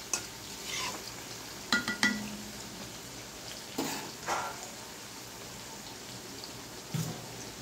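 Potato pieces fry quietly in a pan, a low, continuous sizzle broken by scattered scrapes and clinks as they are stirred.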